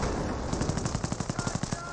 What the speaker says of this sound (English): Rocket grenades firing.